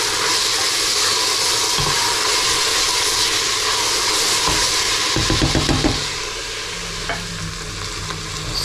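Garlic sizzling with a chili as it cooks off in a pan for a lamb curry, a steady frying hiss throughout with a few louder stirring scrapes near the end, close and alone.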